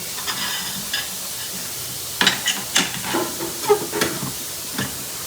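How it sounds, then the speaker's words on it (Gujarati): Soft oil sizzle hisses in a pan as a cluster bean curry is tempered, while a spoon stirs and scrapes in several short, uneven bursts. "તો ચલો ભાઈ આપણે મસ્ત મજાનું શાક વઘારી નાખ્યું છે"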